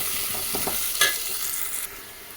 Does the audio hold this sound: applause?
no